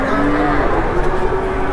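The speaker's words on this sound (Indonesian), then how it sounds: "sapi ini suka ngeprank ya" A cow gives a low, drawn-out moo, close and fairly loud, over a rough background rumble.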